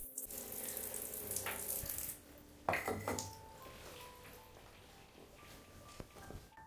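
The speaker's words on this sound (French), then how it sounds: "L'eau coule encore." Water still running from a shower in an abandoned mansion, a steady hissing spray for about two seconds, then a brief splashing burst and quieter trickling with faint clinks, all close and low.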